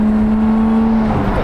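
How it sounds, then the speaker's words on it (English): A Lotus Emira GTR engine idles while warming up in tour mode, a steady, close mechanical hum with a constant pitch and slight rising revs at the end. "Let the engine get warmed up."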